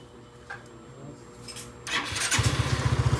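Motorcycle engine cranked by a helper during stator wire testing, catching after a couple of seconds and settling into a loud, close, steady idle with a pulsing beat.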